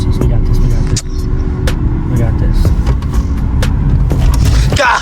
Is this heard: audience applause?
no